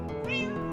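A single short cat meow in Minecraft, clear and close, set against a steady background music bed.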